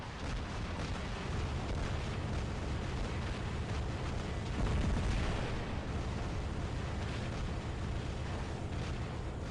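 Ember flamethrower weapon on a Carnage robot in War Robots, a continuous roaring, crackling barrage of fire and explosive bursts that runs unbroken for about nine seconds, steady and dense with no talk.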